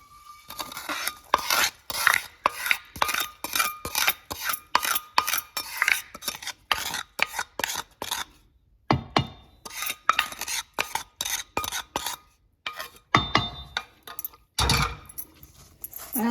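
Yellow cucumber pickle (dosakaya pachadi) being mixed by hand with cooled tempering, giving a steady series of close, wet squishing and rubbing strokes in an even rhythm with brief pauses, no voices.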